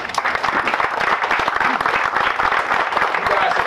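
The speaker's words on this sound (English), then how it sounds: "let's give them a round of applause" A crowd applauds at an outdoor groundbreaking ceremony for a medical building, steady, dense clapping that continues throughout, heard from within the audience.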